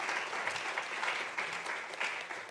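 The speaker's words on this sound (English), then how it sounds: "Let me request that we give them a round of applause." Audience applause at a public lecture, a steady wash of many hands clapping close and fairly loud for a few seconds, with no one speaking over it.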